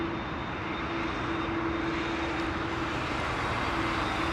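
A British Airways A321neo jet comes in on arrival at London Heathrow, its engines producing a sustained whooshing roar with a steady whine running through it, heard alone at moderate loudness.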